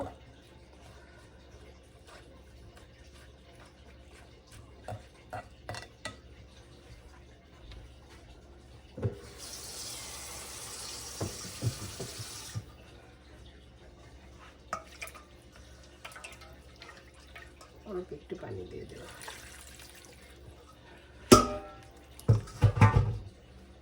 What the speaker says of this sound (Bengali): এখন আমি এটা দিয়ে দিব ফ্রাই প্যানের মধ্যে আর একটু পানি দিব